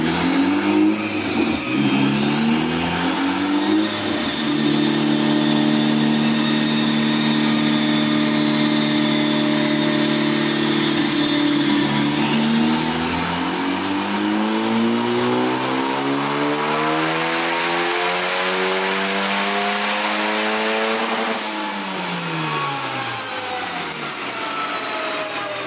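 Tuned SOHC car engine with a Walbro 450 fuel pump revving hard on a dyno, loud and continuous, climbing in pitch through the gears with brief drops at each shift, no voices.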